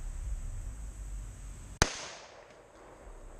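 A .22 LR rifle firing a single CCI Stinger round, one sharp, loud crack with a short decaying tail over steady outdoor background noise, with no talking.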